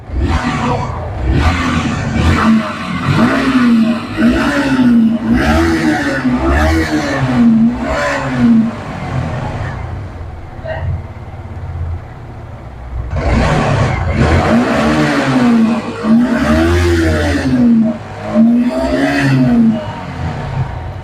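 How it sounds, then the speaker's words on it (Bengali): A Yamaha R15 V3 motorcycle with a stuck throttle revs loudly and repeatedly, its engine rising and falling in waves of roaring acceleration with a brief quieter lull midway, close up, with faint background voices. "থ্রটল দিয়ে যাচ্ছে ক্রমাগত। বন্ধ হচ্ছে না।"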